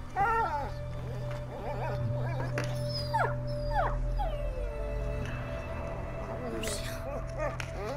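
A dog whines and howls in long wavering, whimpering cries over a steady electronic hum, with bright chirpy sounds overlapping, in the video game A Plague Tale: Innocence.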